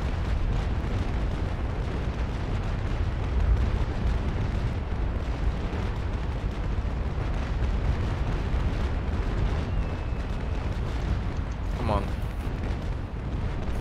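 Naval cannon broadside fire in a naval battle video game, a dense continuous roar of booming shots and rumbling explosions filling the whole stretch, with voices talking over it.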